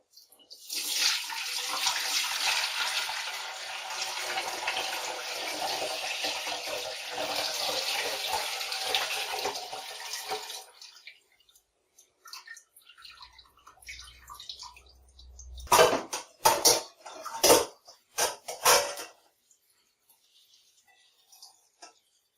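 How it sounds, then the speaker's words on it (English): Bramble wine pouring through a sieve, a steady close splashing stream for about ten seconds, then quiet scraping and a cluster of sharp knocks and taps. "I'm going to strain it through a second sieve, just to make absolutely sure I've gotten all the chunks out"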